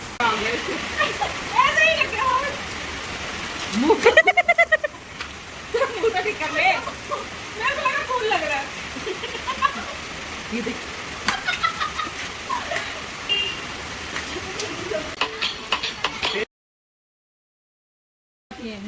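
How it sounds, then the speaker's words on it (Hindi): Rain arrives outdoors as a steady broadband hiss of falling drops with scattered splashes, fairly loud and continuous, while someone talks over it before a sudden cut to silence near the end. "तो अभी देखो बरसात आ रही है और इसमें नहाएंगे।"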